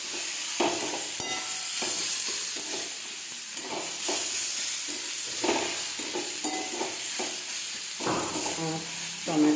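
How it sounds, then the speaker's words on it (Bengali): Capsicum sizzles and fries in a pan with repeated stirring scrapes, a near, steady sizzle broken by rhythmic knocks of the spoon against the pan. "ক্যাপসিকাম ভালো করে ভাজা হয়ে গেছে।"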